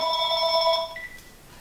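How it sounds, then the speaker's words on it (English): A telephone in a pottery studio rings with a clear electronic warble that sounds steadily for nearly a second, then gives way to a fainter single tone as it stops. "Oh, phone call."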